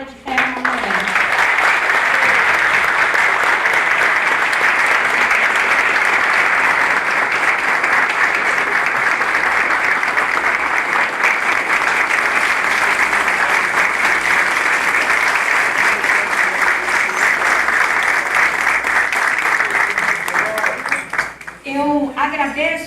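Sustained applause from the audience at a solemn session of the Porto Velho city council, loud and dense for about twenty seconds before tapering off, with a voice resuming near the end.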